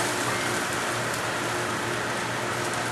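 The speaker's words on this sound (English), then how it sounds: "Once I have my garlic added, let that saute for a quick second" Garlic sizzles in a hot pan as it sautés for turkey chili, a dense, steady crackling hiss without pause, fairly quiet and close, with no one talking.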